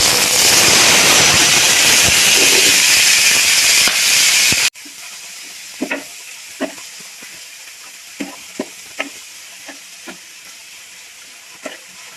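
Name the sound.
chopped onion and chili sizzling in hot oil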